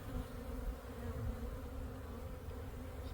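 Honeybees swarm and buzz around an open hive in a backyard apiary, a steady, dense drone close by with no voices over it.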